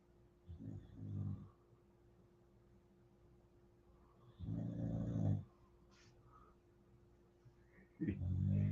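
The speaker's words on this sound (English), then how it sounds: "I know you can hear her snoring." A dog named Luna snores in three slow, deep, rumbling breaths spaced a few seconds apart, close and fairly quiet, with near-silence between them.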